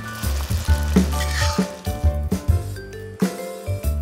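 Beef slices sizzle steadily as they are stir-fried in a wok, with a loud, close hiss broken by repeated soft knocks and scrapes of the spatula.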